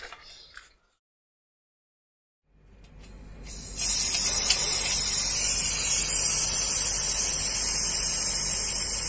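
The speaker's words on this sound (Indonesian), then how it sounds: "Pertama ini saya buang dulu anginnya." Compressed air released from the tank of an IZUMI OL 10-24 oil-less silent compressor, starting after a brief click and near-silence, then swelling into a loud, steady hissing rush close to the microphone.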